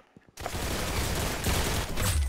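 Dense, continuous gunfire from a Roblox shooter game, starting abruptly after a brief quiet moment and holding loud and steady as a rapid fusillade to the end.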